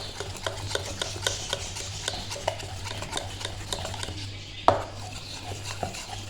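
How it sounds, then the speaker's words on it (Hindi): A whisk mixes thick besan batter for bhalle in a bowl, its close, steady scraping taps knocking at a quick even rhythm, with one sharper clack near the end and no talking. "अब इसको ज़रा विस्क से अच्छे से मिक्स करेंगे"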